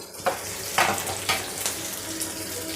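Green chillies fry in a pan with a steady sizzle, broken by three or four sharper spits and scrapes as they are stirred and turned.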